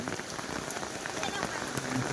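Rain falls steadily on a chapel construction site, a dense even patter across the whole stretch with faint voices beneath it.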